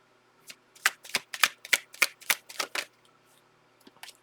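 Tarot cards being dropped and shuffled, a quick run of about a dozen crisp, close card slaps and riffles in the middle, then a few softer taps, with no talking.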